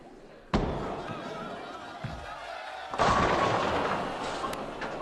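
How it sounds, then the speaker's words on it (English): On a professional PBA Tour lane, a bowling ball crashes into the pins with a sharp clatter, followed by a second loud pin impact, all heard under arena crowd noise. "Knocks down 9 pins there with just the 8 remaining."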